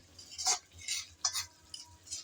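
A spoon scrapes and stirs mango relish in a pan in a few quiet, separate strokes, with soft clinks of metal against the pan and a faint low hum behind.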